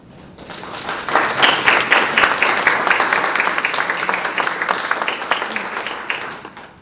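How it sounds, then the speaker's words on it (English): Audience applause at a regional Poetry Out Loud poetry recitation final in Ohio, a dense spread of many hands clapping that swells quickly, holds steady and fades near the end, with no talk over it. "Clapping for me, or are you clapping for her?"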